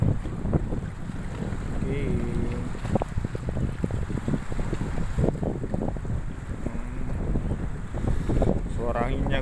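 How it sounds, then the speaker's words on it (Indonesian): Steady wind gusts across a mountain lake near Gunung Talang, blowing hard into the microphone with a continuous rumbling roar throughout, and a person briefly speaks over it. "Suara anginnya guys."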